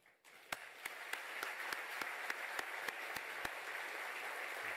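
An audience at an inclusion breakfast breaks into applause, a steady wash of clapping from a fairly distant crowd with a regular beat of crisp, close claps running through it.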